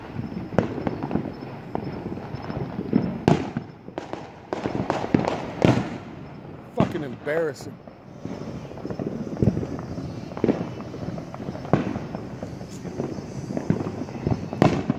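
Fireworks and firecrackers explode repeatedly during a New Year's celebration in Tampa, sharp cracks and bangs going off near and far in an irregular barrage, with a man's brief speech heard over the noise.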